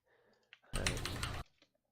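Rapid typing on a computer keyboard during an Overwatch match review, a dense burst of close clicks lasting under a second, with a few soft taps before and after.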